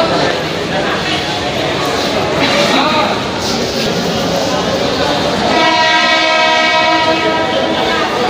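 A train moving through a railway station in Karade Khurd, Khalapur, Raigad, rumbling steadily with a horn sounding in the second half while someone talks over it.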